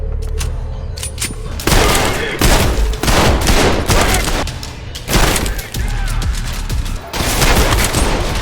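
Heavy, booming gunfire in the first-person shooter Trepang2, loud volleys and bursts broken by brief pauses, with a voice speaking over parts of the action.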